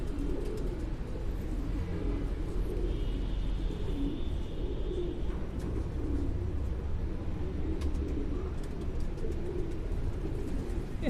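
Pure Dub breed pigeons coo softly and repeatedly over a steady low rumble, with a faint high whine and occasional small rustles in the background.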